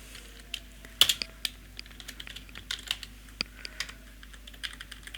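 Someone types on a computer keyboard, producing a quick, irregular run of sharp key clicks close by in a quiet room, with no one speaking.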